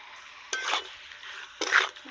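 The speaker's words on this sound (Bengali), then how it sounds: "ভালো করে নাড়াচাড়া করে নিচ্ছি।" Chicken curry stirred in a pot while cooking in a rustic village kitchen: two separate scraping, shuffling bursts of a spoon through the thick mixture, over a faint background hiss, with no talking.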